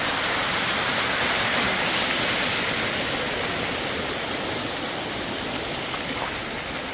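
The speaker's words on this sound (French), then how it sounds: "Ici, c'est le domaine de l'eau. Il y a de l'eau partout," Water rushing steadily through a hot spring canyon at Grutas de Tolantongo in Hidalgo, Mexico, a loud, continuous broadband roar like a stream or small waterfall, close and unbroken throughout.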